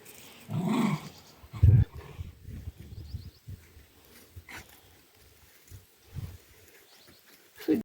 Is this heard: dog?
yes